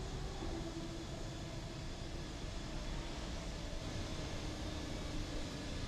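Steady, even whine and rumble of an auxiliary power unit running on an Aerosoft CRJ-900 regional jet in Microsoft Flight Simulator, a constant droning hum with a faint tonal line, unchanging and alone throughout.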